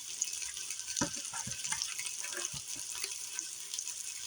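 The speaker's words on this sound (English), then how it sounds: "Wash your potatoes, especially if they're hard potatoes." Potatoes washed under running water, with a continuous close tap stream and splashes, and a few soft knocks as the potatoes are handled in the sink.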